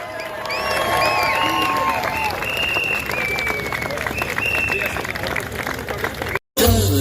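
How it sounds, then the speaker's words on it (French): At a street protest in Toulon, a crowd applauds and cheers. Dense clapping mixes with whistles and crowd babble, then cuts off abruptly near the end. "Vous pouvez l'applaudir mes camarades"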